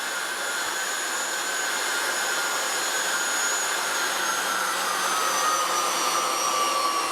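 A Jet Provost JP5 jet trainer taxiing on the ground, its steady broadband turbine roar holding constant and loud throughout, with a high whine riding on top and no other sounds.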